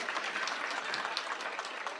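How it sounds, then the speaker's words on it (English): Steady applause from an audience at an innovation fair, a continuous patter of many hands clapping for two seconds with no voices over it. "I take it you can hear the applause."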